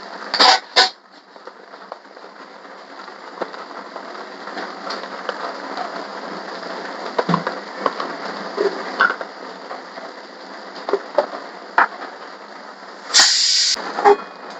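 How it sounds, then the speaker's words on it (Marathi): Ground masala paste for bazar amti frying in a pan gives a steady, close sizzling hiss with occasional crackles and brief louder spits. "हे वाटण मस्त फ्राय करून घ्यायचंय."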